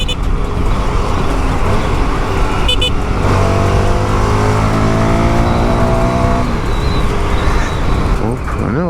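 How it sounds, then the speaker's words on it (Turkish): Heavy city road traffic surrounds a rider on a motorcycle in Turkey, with a steady close roar of engines, revving, and cars passing. Someone talks over it. "Bu ne trafik lan?"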